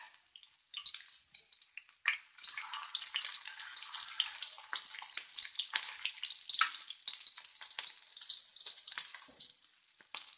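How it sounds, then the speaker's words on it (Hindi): Chapli kabab frying and sizzling in a pan as the patties are turned, a steady crackling hiss with scattered spits and scrapes, close and fairly loud throughout with no talking. "पलट पलट कर इस तरह से फ्राई कर लेंगे।"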